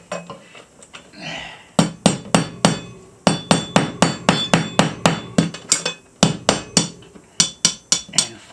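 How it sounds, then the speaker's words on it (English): A small hammer drives a molly bolt through a hole in a wall, ringing metallic taps in quick bursts of steady blows, loud and close. "So I'm going to take this little hammer"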